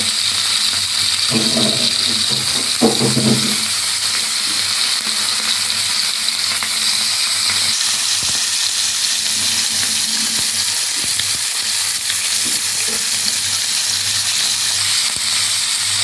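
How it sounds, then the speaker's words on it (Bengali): Ayala mackerel frying in hot oil in a pan, a loud steady sizzle with a few brief clatters near the start and no talk. "তেল গরম হয়ে গেছে এবারে আমি একটা একটা করে মাছগুলোকে ভেজে নেব"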